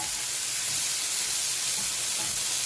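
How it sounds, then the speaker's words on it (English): Bacon sizzles and crackles steadily in a frying pan, a close, continuous bright hiss with small pops, heard alone without any talk. "The smell of sizzling bacon."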